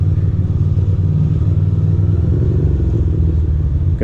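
A motorcycle rides through city streets in Red Hook and Williamsburg, its engine a close, steady low rumble with a quick rhythmic pulse for a few seconds.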